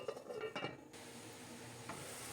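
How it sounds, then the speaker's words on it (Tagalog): A brief clatter of a pot lid, then a steady, soft bubbling hiss of water boiling with pansit noodles under a cover. "kumukulo na"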